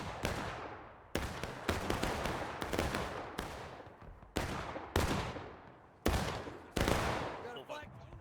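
Musket volleys from War of Rights ring out in a Civil War battle at Piper Farm, a string of loud booming shots in ragged bursts, each rolling away into a long echo, with no talk.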